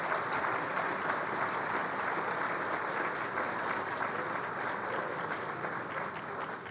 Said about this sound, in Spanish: les pido un aplauso para estos panelistas